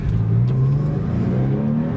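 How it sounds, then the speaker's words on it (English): A 1999 Porsche 911 Carrera 4 flat-six engine revving up close, its pitch climbing steadily with a strong induction roar from inside the car. "You start hearing all that induction noise."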